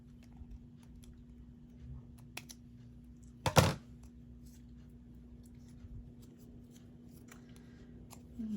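Scissors trim ribbon on a handmade craft gift with one quick, crisp snip near the middle, standing alone over a quiet background hum.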